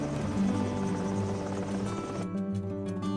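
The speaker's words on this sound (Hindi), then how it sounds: "अब मैं यहाँ एक हेलीकॉप्टर ले आता हूँ" A helicopter in a 3D animated Hindi cartoon, its rotor throbbing steadily with a low droning hum that continues throughout, ending with a sharper rhythmic chop.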